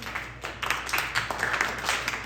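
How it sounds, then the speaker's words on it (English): A comedy club audience claps together in a steady, moderate rhythm. The claps are dense and fairly close, with no voices over them. "Everybody start clapping slow."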